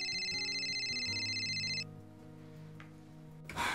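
A telephone rings with a bright, repeated electronic trill for under two seconds, then stops. A quieter tonal hum continues until a brief rustle at the end.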